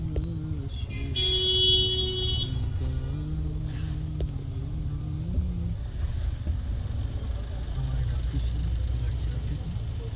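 Slow traffic jam on a mountain road near Badrinath, with engines idling and car horns tooting intermittently, steady wind buffeting the microphone throughout.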